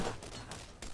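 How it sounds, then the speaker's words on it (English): A grenade goes off in the video game Borderlands, a short burst of broad, rumbling explosion noise with a couple of sharp follow-up cracks, brief and fairly faint. "Oh, that was a grenade."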